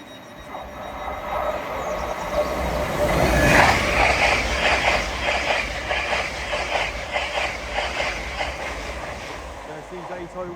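An LNER Azuma train passes through Alexandra Palace on the East Coast Main Line, its rumble building to a peak and then continuing as a rhythmic clatter of wheels over rail joints, fairly close and loud.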